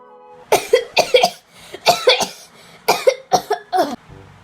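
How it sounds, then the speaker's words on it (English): A person coughing in a series of harsh, close bursts, grouped in clusters of two or three with short pauses between them, loud and alone without other talk. "Why are you coughing?"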